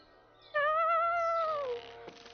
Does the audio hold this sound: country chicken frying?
no